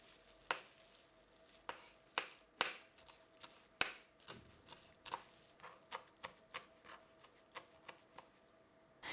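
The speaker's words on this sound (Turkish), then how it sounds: "maydanozun yarısı kadar da dereotunu ince ince doğrayarak hazır hale getiriyorum" A knife finely chops dill and parsley rapidly on a cutting board, a string of crisp, uneven taps close by, with no one speaking.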